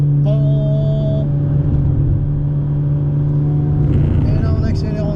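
An Alpine car drones steadily at close range on the Bugatti circuit, its engine tone rising as it accelerates near the end, with a voice talking over it.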